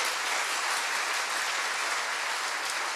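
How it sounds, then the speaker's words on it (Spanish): A church congregation applauds loudly and continuously, a thick, even wash of many hands clapping at once that fills the space without pause. "Denle un fuerte aplauso al Señor."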